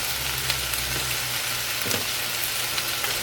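Mushrooms fry in a hot oiled pan beside fish for a Japanese meal, a steady close sizzle with small crackles and a faint stir, no voices.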